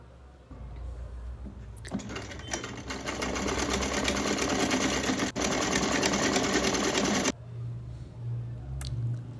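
An electric sewing machine stitches the fitting on a wedding dress made from an old heavy dupatta. It gives a steady, close, rapid whir for about five seconds, with quieter handling noises before and after.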